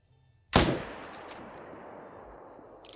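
A single loud rifle shot fired at a bison in the hunting game Call of the Wild, a sharp crack followed by a long rolling echo that fades over a couple of seconds.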